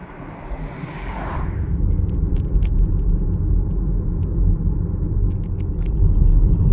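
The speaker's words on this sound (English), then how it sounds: "Let's drive into town and check it out." A car rolls into the small village of Pecos, New Mexico, its road rumble and engine drone loud and close, building steadily without pause.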